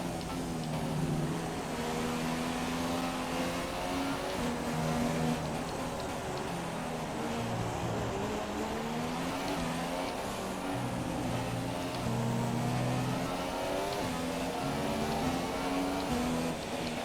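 Formula 1 race cars in the F1 2017 game, Marcus Ericsson's Sauber with a year-old engine among them, drone at Interlagos with steady high-pitched engine whine, gear shifts and pitch sweeps as cars pass along a straight, loud and continuous.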